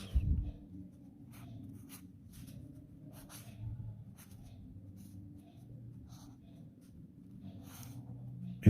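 A pen writes the number 786 on paper at close range, its faint scratchy strokes coming in short bursts over a low steady background hum, with no talk.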